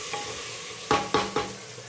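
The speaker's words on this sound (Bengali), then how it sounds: "তো এবার আমি একটু নেড়ে নিই, মশলাটা লেগে যাবে না হলে।" Spices fry and sizzle in oil in a pan, with a steady hiss under three sharp scraping stirs near the end, close and alone.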